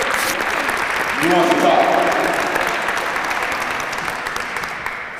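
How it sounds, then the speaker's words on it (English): An audience at a Cleveland executive order signing for a children and youth cabinet gives a round of applause that swells, then fades while someone briefly speaks over it. "Let's give him a round of applause."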